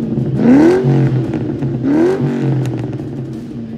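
A 2003 SVT Cobra with a Bassani catback exhaust revs twice, each blip rising sharply and falling back to a rumbling idle, loud and close with no talking.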